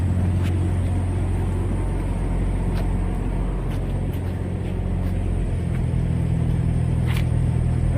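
A semi truck tugs against a hooked 2012 trailer, a heavy, steady low engine rumble held close and loud throughout with faint metallic clicks, no speech.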